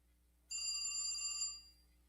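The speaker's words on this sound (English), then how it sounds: "uh-oh, my phone is ringing." A telephone rings once in a single sustained electronic trill lasting about a second, close and clear over a quiet room, then stops abruptly with a short fading tail.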